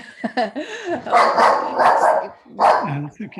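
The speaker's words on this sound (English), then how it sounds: "that was my dog barking" A dog barks repeatedly at the far end of an online council meeting, sharp yelps mixed with a person speaking over and between them.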